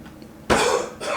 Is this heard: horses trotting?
no